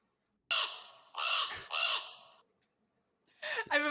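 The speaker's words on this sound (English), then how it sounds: "I'm imagining all the crows taking off, flying away" Crows cawing in a quick burst of harsh, raspy calls, three close caws in a row, then a short pause and a final pair of squawks, loud and near with no talk around them.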